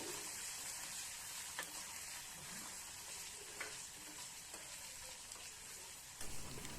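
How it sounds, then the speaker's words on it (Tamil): Curry leaves and coriander sauté in a pan for a goat head curry masala, making a faint, steady frying hiss with a few soft stirring taps and no talk. "இதை சேர்த்து வதக்கி அரைக்கும்போது இதையும் ஒரு நிமிஷத்துக்கு நல்லா வதக்கிக்கலாம்."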